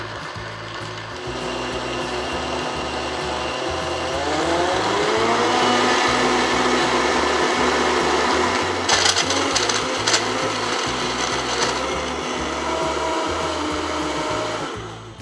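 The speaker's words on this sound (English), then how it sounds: "I'm gonna put this one on the power blend setting since I've got a lot of greens and frozen fruit in it" A Vitamix S55 personal blender on its power blend setting churns greens and frozen fruit, a loud steady motor whir with rising pitch and grinding texture, running continuously without talk.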